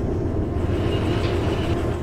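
A heavily loaded freight train of about 290 tonnes rolls along in the Derail Valley video game, giving a continuous low rumble without break or change.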